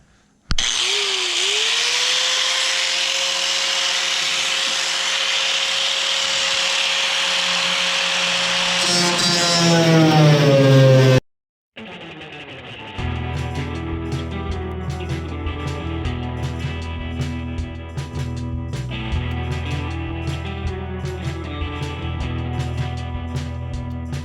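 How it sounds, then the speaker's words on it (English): An angle grinder with a cutoff wheel slices through the body metal of a 1946 Nash humpback sedan, a steady loud whine rising in pitch for about ten seconds, then a sharp stop and a denser, rattling cutting stretch that continues to the end. "I'm gonna use the angle grinder on the cutoff wheel and see if I can do this"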